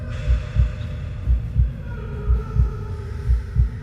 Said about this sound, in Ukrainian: Серце б'ється, це добре чи погано?